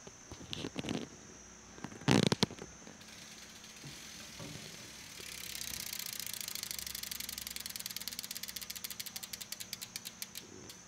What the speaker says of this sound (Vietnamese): để mình quay cái tiếng đùm nha cả nhà nghe thử